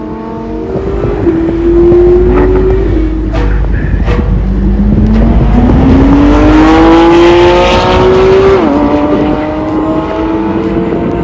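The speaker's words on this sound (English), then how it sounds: "Let's take a moment to hear those engines." Supercar engines revving and accelerating around the SpeedVegas track in Las Vegas, loud rising engine notes climbing through upshifts with a brief drop between gears, sustained and close for about ten seconds.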